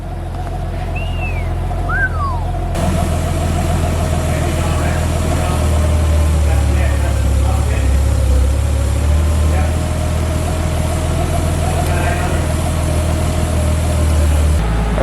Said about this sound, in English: we're just working on the idle and just trying to find a sweet spot